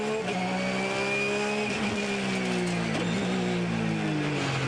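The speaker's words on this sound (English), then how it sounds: "This car we ride with here, the car of Tony and Clark Quinn." A race car at the Hampton Downs 12-hour endurance race roars continuously, engine pitch rising and falling through gear changes as it drives on, heard loud and close from on board.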